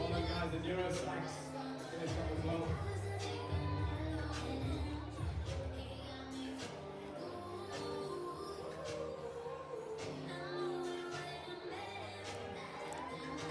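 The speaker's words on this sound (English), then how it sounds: "the crowd are cheering them on as they are arriving" Crowd cheering and clapping for riders arriving at the finish of the Nedbank Desert Dash mountain bike race, a steady distant roar of mixed voices with scattered sharp claps throughout.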